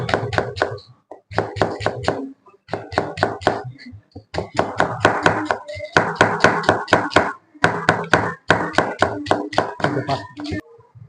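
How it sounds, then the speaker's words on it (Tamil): Onions and tomatoes are roughly cut with a knife on a board in a home kitchen, giving loud, close, rapid bursts of crisp chopping taps in quick runs separated by brief pauses. "125 கிராம் ஆனியனு, 150 கிராம் டொமேட்டோ, இதை வந்து நம்ம ரஃப்லியா நம்ம வந்து கட் பண்ணிக்கலாம்."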